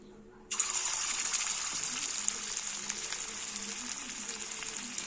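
Cabbage pakoras drop into hot oil and it bursts into a loud, bright sizzle after a brief quiet start, then keeps crackling steadily and close, with no talking.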